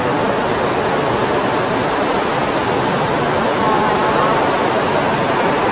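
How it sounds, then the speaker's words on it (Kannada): Heavy rain pours outside Makkasan railway station in Bangkok as a dense, loud, unbroken hiss that stays steady for the whole stretch, with no speech. "ಆಚೆ ಕಡೆ ಸಿಕ್ಕಾಪಟ್ಟೆ ಮಳೆ ಬರ್ತಾ ಇದೆ."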